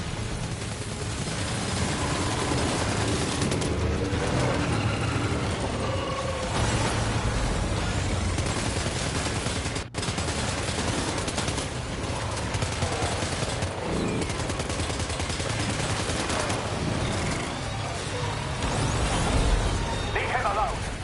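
Bursts of gunfire from the Death Stranding 2 video game, played on foot, run steadily through a dense, loud mix of game sound over about twenty seconds, with speech-like voices mixed in.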